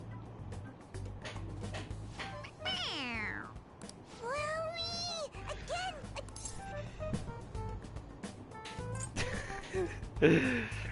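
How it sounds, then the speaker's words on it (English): A stuffed toy cat in the video game Persona 5 Royal meows when pressed, giving a few drawn-out, falling meows between stretches of talk and game sound. "It meows when you press on its head."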